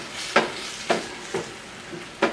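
Soy sauce and white wine hit a hot pan of lentils, giving a soft sizzle broken by four or five evenly spaced stirring scrapes, close and fairly quiet.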